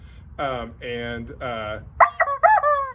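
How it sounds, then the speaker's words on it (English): A squawking rubber pigeon toy gives three honking squawks, then two shriller, higher squeals, each squeezed out in quick succession, close and loud with no talking. "we have our squawking pigeon"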